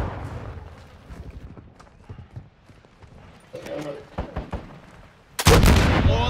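Gunfire in Call of Duty: Modern Warfare II, a few sharp shots at the start of firing on a UAV, amid radio chatter and voices.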